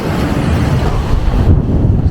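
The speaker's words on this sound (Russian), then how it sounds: "здесь прям ветрище такой дует, прям задавает" Strong wind buffets the microphone in a steady, rumbling roar, heavy in the low end, with a brief surge of gusting toward the end.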